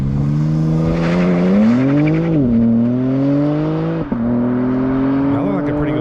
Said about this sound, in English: That looked like a pretty good launch.